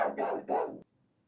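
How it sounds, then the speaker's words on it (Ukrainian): A dog barks outdoors in a quick double burst of two harsh, close barks, followed by near silence. "На вулиці собака гавкає"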